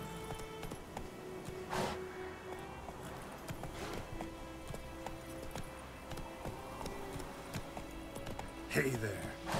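Roach the horse in The Witcher 3 trots and gallops with repeated clip-clop hoofbeats on the ground, steady and moderately close, over game ambience, with brief bursts of noise and a voice speaking at times.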